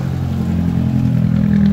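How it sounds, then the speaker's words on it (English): An idling car with an exhaust leak at a toy car show at Pacific Raceways, giving a loud, steady low hum and drone that holds constant throughout the short stretch, with no speech. "Listen to that exhaust leak."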